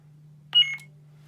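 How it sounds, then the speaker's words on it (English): A short electronic beep from a custom shoto lightsaber, triggered by a long button press, sounds once, bright and tonal, over a steady low hum, then fades quickly. "You press, long press until the first beep."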